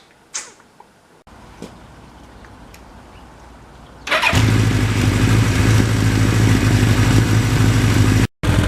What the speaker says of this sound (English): for almost 40 years I've been listening to that exhaust, and it never gets old